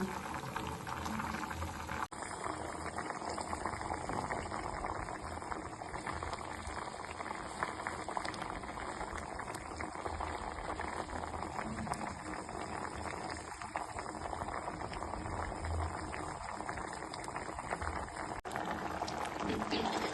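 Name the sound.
black gram dal boiling in pot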